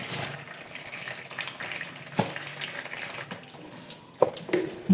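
Hibiscus being washed under running water from a tap, a steady close splashing stream with a few sharper splashes and knocks near the end, and no voices.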